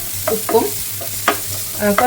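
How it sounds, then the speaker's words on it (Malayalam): Chopped onion sautéing in a pan for a brinjal dish, heard as several short bursts of stirring and scraping over a low, steady background hum, with a faint sizzle and no talk. "ഒരു സവോള ചെറിയ കഷ്ണങ്ങളായി അരിഞ്ഞിട്ട് ഇട്ട് കൊടുക്കുന്നുണ്ട്. അതിനൊന്ന് സോട്ട് ചെയ്തെടുക്കാം."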